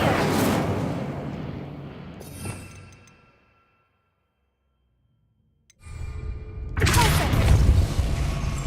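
A fiery whoosh and burst from the Incendio fire spell in Hogwarts Legacy: a roaring flare at the start, near-silence for a few seconds, then another loud blazing rush that carries to the end.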